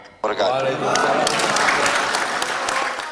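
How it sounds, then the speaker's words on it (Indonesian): Loud, dense applause fills a parliamentary meeting room as judges clap in appreciation, starting abruptly and sustaining steadily throughout at close range. "Tepuk tangan meriah menggema di ruang rapat sebagai bentuk apresiasi"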